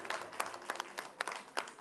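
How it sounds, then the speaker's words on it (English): Sparse, faint claps from a small audience at the Island SPACE Caribbean Museum, honouring an airline captain, come as a handful of distinct, uneven slaps heard from a distance. "Give him a round of applause."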